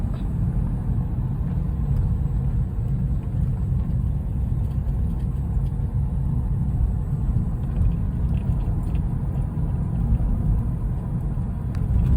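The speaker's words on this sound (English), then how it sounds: "I wonder what my car sounds like." Car driving, heard from inside the cabin: a steady, loud low rumble of engine and road noise that holds evenly for the whole stretch, with no talking.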